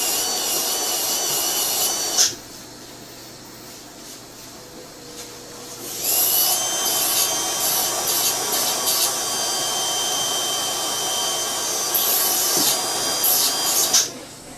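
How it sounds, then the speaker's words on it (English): A rotary sandpaper disc grinds an acrylic temporary dental bridge, giving a steady high whine with raspy friction. The loud grinding stretches run for several seconds each and are broken by a quieter pause. "I like the sandpaper disc. It makes very smooth cuts, polishes up very nicely afterwards."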